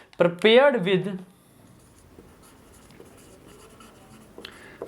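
A pen scratches out handwritten notes during an engineering estimation and costing lecture, the faint scratching running under and after a brief burst of a man's speech at the start.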